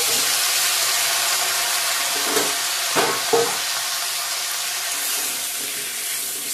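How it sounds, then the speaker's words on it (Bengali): Onion, soybean chunks, potato and pointed gourd frying together in a pan, giving a steady broad sizzle and hiss with a few soft stirring knocks partway through, close and fairly loud, no talk. "পেঁয়াজটা ভাজা ভাজা হয়েছে, এখন সয়াবিন আলু পটল দিয়ে দেবো একসাথে"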